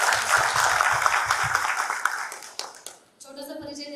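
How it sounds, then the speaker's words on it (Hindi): Applause from a conference audience welcoming a guest at an Indian direct selling leadership conference, a dense burst of clapping that fades out over a few seconds before a voice begins. "तो जोरदार तालियों के पीछे उनका स्वागत"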